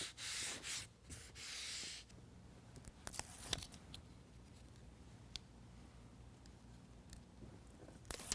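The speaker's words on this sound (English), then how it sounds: "we're going to rub those down with some isopropyl alcohol" Cloth wiping isopropyl alcohol along the bed rails of a 2020 Jeep Gladiator: a few brisk rubbing strokes at first, then faint scattered scuffs and clicks, all soft and close.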